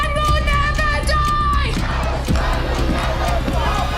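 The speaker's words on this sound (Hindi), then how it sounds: "फिलिस्तीन के समर्थन में यहाँ भी लोग जमा हो रहे हैं," A large crowd of protesters rallying in support of Palestine against the bombing of Gaza, a loud continuous roar of shouting and chanting voices, with a tonal musical sound over it early on.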